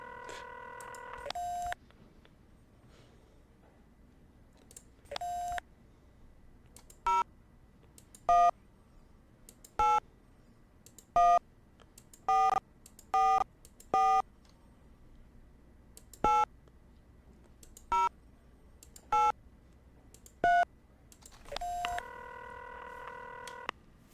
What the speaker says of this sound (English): I dialed it wrong, didn't I?